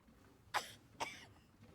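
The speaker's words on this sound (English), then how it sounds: "That cough can't be a good sign." A character in Baldur's Gate 3 coughs twice, two short, harsh bursts about half a second apart over a quiet background.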